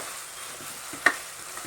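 Ingredients sauté in a pan for white kuska coconut milk rice, a brief soft sizzle with a single sharp spoon clink against the pan midway, close and quiet.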